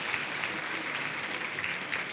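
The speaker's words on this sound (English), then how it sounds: "let's give her a rousing round of applause" Church congregation at a Seventh-day Adventist baptism service applauds after a baptism testimony, a full, sustained burst of many hands clapping with no speech over it.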